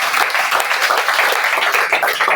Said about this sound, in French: Est-ce qu'on peut l'acclamer ce matin?